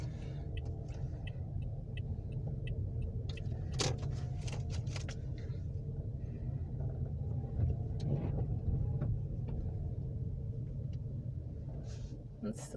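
A car engine rumbles steadily throughout as a learner driver works the gas and brake, a low continuous drone with small surges, while people talk over it inside the vehicle.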